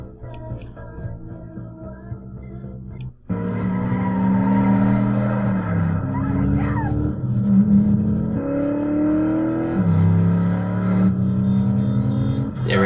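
Film car-chase audio from Drive: a roaring car engine revving and shifting pitch against a dramatic musical score, loud and continuous after a sudden cut in.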